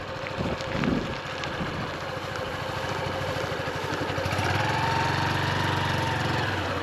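A motorcycle with gears rides across grass during a beginner's first lesson, its engine droning steadily and close with a rising rev toward the end, and no talking.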